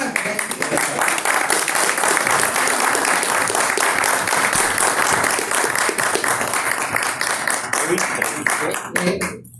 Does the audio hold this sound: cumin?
no